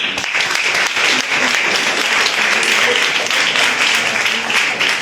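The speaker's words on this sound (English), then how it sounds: "Could you give them a round of applause?" An audience applauds steadily and loudly throughout at a public meeting with staff from the Miami-Dade County mayor's office present, a continuous wash of many hands clapping at once.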